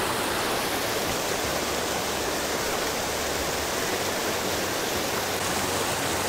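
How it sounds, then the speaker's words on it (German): A loud river rushes through a snowy winter landscape in the Harz, a steady broadband roar of churning water heard close and alone for several seconds. "Der Fluss ist sehr laut."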